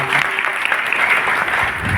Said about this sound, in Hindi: एक बार आचार्य जी के लिए जोरदार ताली बजा दीजिए।